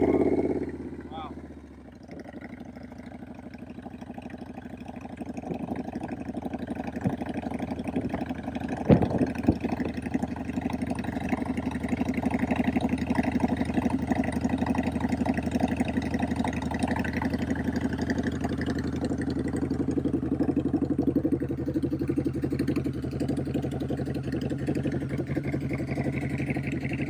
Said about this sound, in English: Let me start the bike up for you.